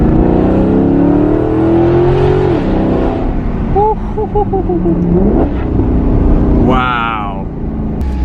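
A loud straight-piped Maserati GranTurismo MC engine revs and climbs through the gears, rising in pitch, with brief shifts and a sharp high rev near the end; some talk underneath.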